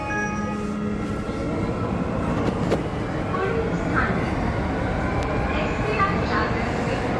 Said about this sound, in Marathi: हे बघा समोर एक कफ परेडसाठी ट्रेन जाते